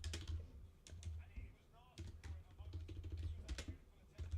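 Rapid clatter of computer keyboard keys in irregular bursts, close and fairly quiet, with soft background chatter underneath.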